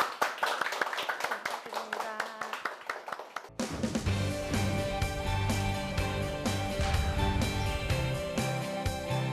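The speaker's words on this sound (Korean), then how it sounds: "백재환 전문가님의 강연을 박수로 청해 보겠습니다" An audience at a lecture event claps in sharp, distinct hand claps at first, then swells into dense, sustained applause with music coming in underneath.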